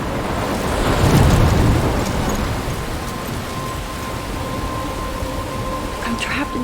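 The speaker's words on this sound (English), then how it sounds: "I'm trapped in a storm?" Thunderstorm in Life is Strange, with steady heavy rain hissing throughout and a low rolling thunder swell early on, fading back to constant downpour.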